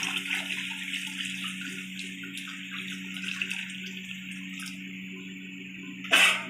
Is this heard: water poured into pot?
yes